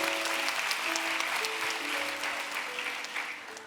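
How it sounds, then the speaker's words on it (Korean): A church congregation claps together during a youth service, steady full-room applause that holds for several seconds and slowly fades, with no voices over it. "박수 한번 하십시다."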